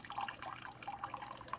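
Strong-brew coffee trickling from a Keurig K-Supreme K-Cup coffee maker, a soft, steady dripping and splashing of liquid close by, continuous and fairly quiet.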